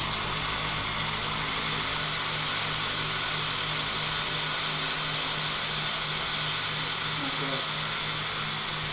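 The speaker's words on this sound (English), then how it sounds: "There's the old man sharpening." A power tool whirs steadily in a home workshop, a loud continuous high-pitched grinding hum that holds throughout with no clear pauses.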